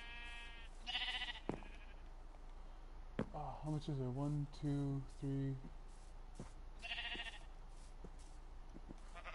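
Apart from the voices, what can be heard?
sheep bleating in the video game Minecraft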